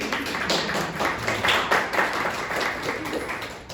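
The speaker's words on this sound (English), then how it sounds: "I want you to give yourself an applause, please." Audience at a UN CSW69 parallel event panel discussion clapping together, a steady dense applause from a room full of people lasting a few seconds, fairly close and even.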